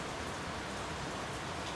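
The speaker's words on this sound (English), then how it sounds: "watches every single raindrop hit the ground" Light drizzle falls steadily, raindrops pattering on the ground in a soft, even hiss with no gaps and no voices.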